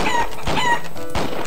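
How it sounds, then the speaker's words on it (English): Chickens clucking in a video game, a close, loud run of several rapid clucks and squawks from fowl with no talk over them. "Chickens."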